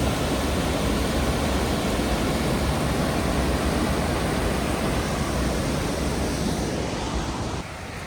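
Waterfall at High Force in the Lake District, a steady, loud broadband rush of falling water that stays constant throughout, dipping slightly near the end; no voices.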